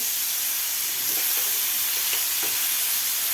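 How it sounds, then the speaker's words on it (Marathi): Tomatoes with salt sautéing in a pan for restaurant-style veg Kolhapuri, giving a steady, close sizzle and hiss with faint stirring scrapes throughout. "आता आपलं टोमॅटो भाजून घ्यायचं आहे"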